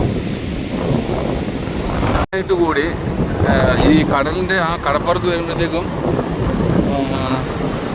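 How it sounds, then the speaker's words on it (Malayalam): Strong wind at Kuttapuri Beach in Bali buffets the microphone with loud gusty rumbling while a person talks over it nearly the whole time. "അതുപോലെ കാറ്റ്, ഭയങ്കര കാറ്റ്"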